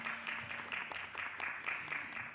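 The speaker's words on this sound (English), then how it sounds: "Round of applause for our panelists." Applause from the audience at a media literacy summit panel on diversity in media, a steady, fairly quiet patter of many hands clapping in a room, with no one speaking over it.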